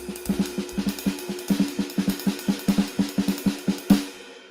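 A drum pattern on ride cymbal and snare, sticked in six-note groups with no accents, played close and steady at an even moderate tempo, each stroke sharp and alike, with a slightly louder hit near the end.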